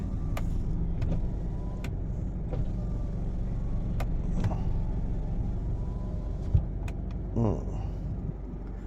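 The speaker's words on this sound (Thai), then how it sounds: "อันนี้ออโต้ครับลง ตอนขึ้นก็ออโต้" An Isuzu car's power window motor briefly whirs as the glass moves, after several light clicks, all over a steady low engine rumble inside the car.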